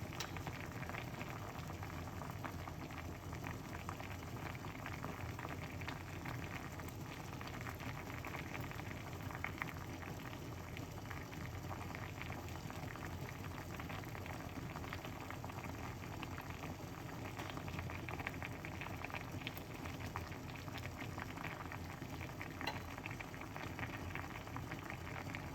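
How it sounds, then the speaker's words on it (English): A pot of lemon and garlic tea simmers steadily, a soft continuous bubbling hiss that stays even and faint throughout with no talk. "You can simmer the garlic."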